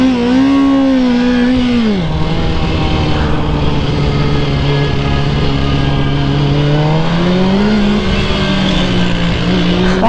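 A Yamaha R6 motorcycle on narrow roads accelerates hard and close, its engine climbing in pitch through a high-revving shift, dipping, then rising again in a continuous loud wail.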